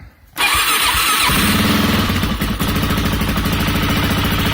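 A Suzuki DR-Z400S motorcycle with a full exhaust, choke on and still cold, cranks and fires up after a brief silence, then settles into a loud, loping idle with a raspy, open exhaust rumble.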